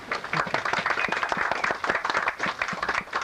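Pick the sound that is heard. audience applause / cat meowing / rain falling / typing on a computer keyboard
audience applause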